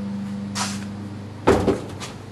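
A wooden drawer holding bolts, screws and nuts slides open with a soft scrape, then a louder knock and rattle as it stops, over a low steady hum.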